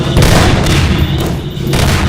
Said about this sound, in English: his 2 SMG nades do the rest